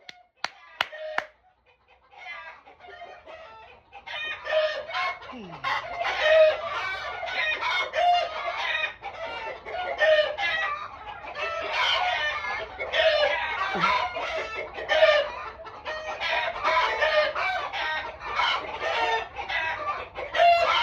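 Eleven roosters crow again and again over steady clucking from a flock of about forty birds. The lively farmyard chorus is close and continuous after a few sharp sounds at the start.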